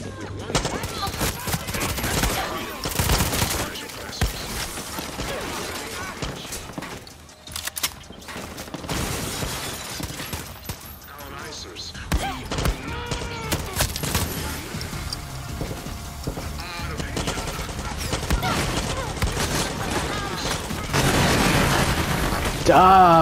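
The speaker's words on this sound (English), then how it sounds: "Another machine gun." Sustained machine gun fire in Far Cry 6, dense rapid bursts of shots continuing throughout amid booms and mechanical clatter, with a voice talking underneath.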